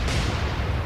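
Heavy naval gunfire in the Atlantic Fleet game during a River Plate battle against the Graf Spee: a loud, deep rumbling boom that fills the whole short moment with sustained low-end roar.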